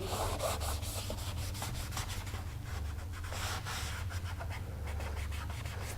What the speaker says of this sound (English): you simply wipe off the residue